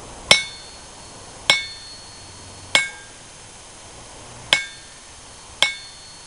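A hammer strikes an anvil set on a stump, five separate bright ringing clangs spaced about a second apart, each with a short metallic ring-out, close and alone.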